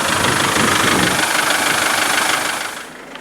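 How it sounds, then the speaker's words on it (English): A motorhome engine idles with a loud, even, rough running rumble that fades away near the end. "Video cameras never really pick up a very good true reflection on what engines sound like in real life."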